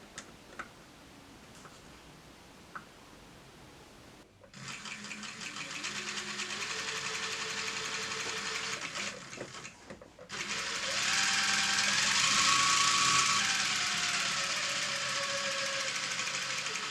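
An Elna 9000 computer sewing machine motor runs on the bench during a belt adjustment, starting with faint ticks, then a steady whirring hum with rising and falling whine, briefly stopping and restarting louder and faster.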